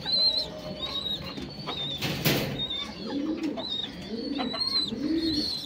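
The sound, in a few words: restless pigeon fluttering and cooing in hand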